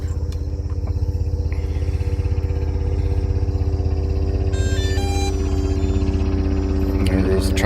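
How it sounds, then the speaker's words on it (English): Rapid rhythmic chopping of a helicopter's rotor flying past, loud and close, with a steady engine drone and a brief high tone near the end, at the Charles Crane Power Station demolition. "There goes the chopper-lopper."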